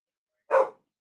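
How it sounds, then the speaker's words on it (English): A single dog bark, short and clear, rising suddenly out of silence and fading within a third of a second. It sounds moderately close. "Okay, dogs are barking."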